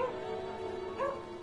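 A dog in the video game Gravity Rush 2 gives a short, mid-loud yelp-like bark with a brief whine, over a steady tonal game background.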